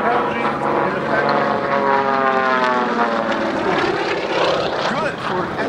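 Race plane built in golden-age air racing style during a high-G turn at an air show, its propeller engine droning loud with a shifting, wavering pitch under steady talk.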